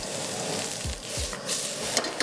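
Vegetables sizzle and hiss as they are stir-fried in an oiled wok, a loud steady frying crackle with a few low scraping stirs and clanks.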